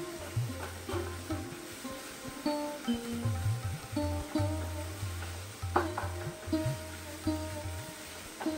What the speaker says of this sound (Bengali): এবার গোলমরিচটা একটু তেলের ওপর নাড়াচাড়া করে দেবো।